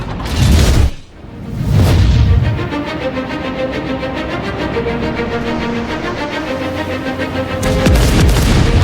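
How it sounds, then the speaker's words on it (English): Heavy booming salvos from a battleship's main guns in World of Warships, the Yamato: a loud blast, a second roaring shot, then a long rumbling tail with mechanical reloading tones before another thunderous report. "The roar from primary armament fire is a three-layered sound."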